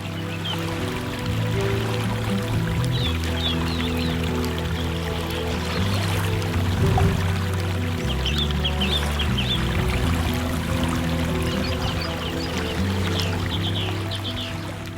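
Animated scene of river water carrying a floating basket, a steady broadband wash of flowing water with soft ripples and faint bird-like chirps, continuous and moderately loud throughout over a low musical bed.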